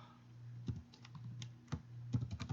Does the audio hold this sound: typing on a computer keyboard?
yes